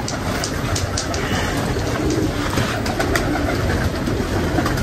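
Pigeons cooing softly amid a steady rumbling background, with occasional sharp clicks and no clear talk.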